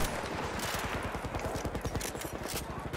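Sustained machine gun fire from a support gunner in Battlefield 1, a dense, rapid stream of near, loud shots in steady rhythm for the full stretch, with no talking.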